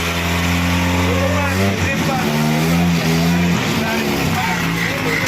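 A loud Nissan car engine idles after starting, with a strong low hum that shifts pitch as it settles, while people talk over it.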